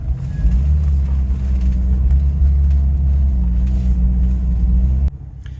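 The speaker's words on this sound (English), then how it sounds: "the engine is smooth now" Rolls Royce Silver Shadow engine idling after carburettor tuning, with an exhaust leak, a steady low even rumble close by for about five seconds before cutting off abruptly, with no talk.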